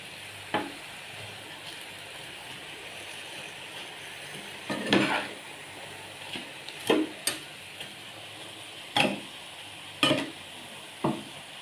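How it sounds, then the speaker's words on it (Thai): Chili and shallots being stirred in a frying pan at home, a soft steady sizzle with sparse, irregular scraping and tapping strokes of a spoon against the pan. "ก็พริกหอมแดงก็จะมาคนกัน"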